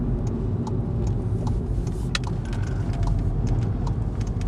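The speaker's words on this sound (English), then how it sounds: "you might pick it up on the microphone that you can hear the engine revving, and it actually sounds really good" A Seat Ibiza hatchback's engine running under steady load while driving, a loud continuous low rumble and road noise from inside the cabin, with a few faint clicks and no speech.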